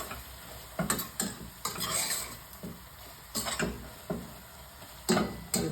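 Mushroom biryani stirred in a pot, with a few close, separate bursts of scraping and stirring, the utensil clattering against the metal over a faint sizzle.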